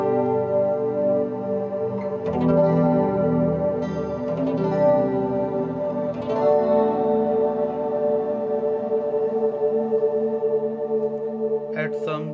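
Electric guitar played through a synth patch on a Zoom G5N multi-effects processor with reverb, giving sustained, swelling synth-like notes that ring steadily with a long reverberant tail, plucked accents every few seconds.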